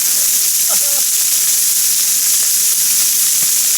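Food frying in a pan with peppers, a loud, continuous close-up sizzle and hiss with a few faint clicks and a brief murmur near the start.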